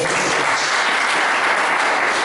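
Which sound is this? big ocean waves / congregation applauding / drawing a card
congregation applauding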